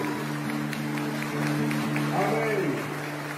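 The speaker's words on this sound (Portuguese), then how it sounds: "Uma salva de palmas bem bonita, forte, calorosa, para Deus!" Congregation at a Catholic mass in Salesópolis clapping together, a steady wash of applause that swells briefly near the end, with a voice talking over it.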